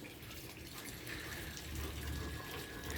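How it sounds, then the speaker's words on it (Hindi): A Rottweiler drinking water produces steady wet splashing and lapping, close and continuous for a few seconds, over a low rumbling background. "अब रॉटवाइलर भी हमारा पानी पीने गया है"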